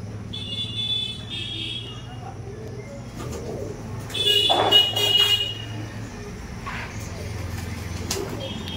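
Domestic pigeons coo nearby in low, repeated rolling calls, joined by scattered chirps and a brief flurry of activity midway, with someone talking over them.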